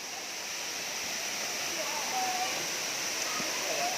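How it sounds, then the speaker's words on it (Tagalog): Ng Tung Chai waterfall heard up close as a steady, broad rushing roar of falling water that fills the scene and swells slightly toward the end. "Ayan, guys, nandito na kami sa falls."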